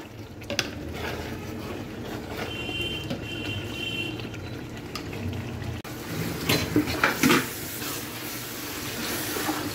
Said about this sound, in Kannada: ಸೊ ಅಡಿಗೆ ಹಿಡಿಬಾರ್ದಂತ ಮಿಕ್ಸ್ ಮಾಡ್ತಾ ಇದ್ದೀವಿ.